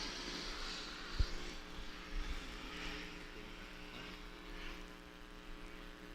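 An airplane passes overhead at an outdoor college baseball game, a steady droning engine hum with a low propeller-like rumble that holds throughout, moderately distant, with a single sharp knock early on.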